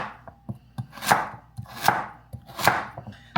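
A knife chops carrots steadily on a cutting board, quick light cuts broken by three heavier, louder chops at regular intervals, close up with no talking.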